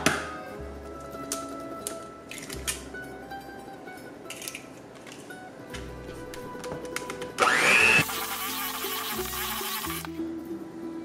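Electric mixer beating an egg into a baking filling, a steady whirring hum with clicks, then a sharp louder burst of high-speed whine toward the end before settling back.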